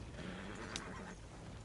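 A horse whinnies briefly in Red Dead Redemption 2, faint over a low rumbling outdoor backdrop with soft hoof clops, no talking.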